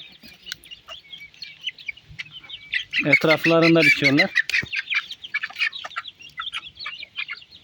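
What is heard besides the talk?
chickens clucking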